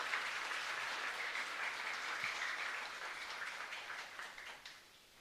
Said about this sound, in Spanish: para ellos también un fuerte aplauso